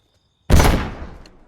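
A single sharp, loud gunshot after a brief silence, with a short echoing decay, during an armed robbery.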